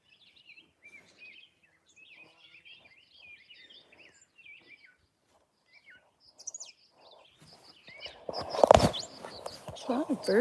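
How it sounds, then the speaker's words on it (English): Many birds chirp and trill in a garden, a steady scatter of small calls at a moderate distance, before louder rustling and handling noise close by takes over near the end. "A lot of birds, eh? A lot of stuff going on up there."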